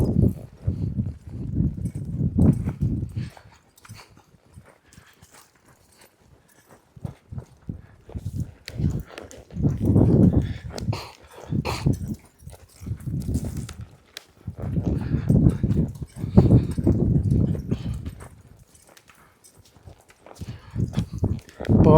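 Horses walk while one is ponied, their hooves thudding in irregular clusters of soft clip-clop steps, close by, with quiet pauses between the bursts.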